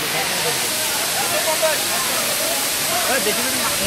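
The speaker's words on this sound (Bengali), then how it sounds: "বিশাল ঝর্ণা, বিশাল।" A large waterfall at Khagrachari roars with a steady, dense rush of falling water, loud and continuous throughout, with faint voices murmuring beneath the torrent.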